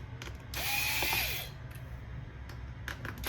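Screws are removed from the speakers inside a Lenovo ThinkPad X1 Carbon Gen9 laptop: a close, bright whirring of a small screwdriver or driver for about a second, then faint ticks and clicks of handling.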